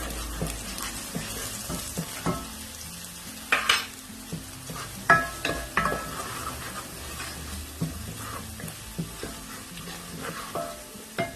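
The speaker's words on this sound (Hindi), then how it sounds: "इस तमाम मसालों को अच्छी तरीके से मिक्स करेंगे" Spices are stirred and mixed in a hot pan for an egg and potato curry, with a soft ongoing sizzle broken by repeated scraping and knocking of the spoon against the metal, close by and without speech.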